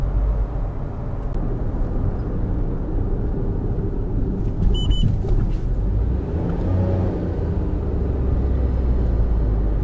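A Chevrolet Spark small car accelerates while driving, a steady low engine rumble and road noise heard from inside the cabin, with no talking.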